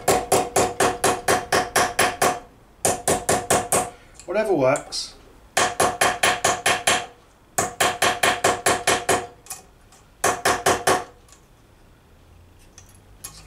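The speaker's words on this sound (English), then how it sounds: "Get yourself a flatter hammer for that bit." Bursts of rapid, ringing metallic blows from a flat hammer shaping a gauntlet's knuckle gadling, in quick rhythmic runs, with short pauses between groups and a brief spoken remark in the middle.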